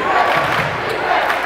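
Student section crowd roaring and cheering at a high school state championship basketball game between Trinity Christian and Central Fellowship, a dense, continuous wall of voices with no pauses.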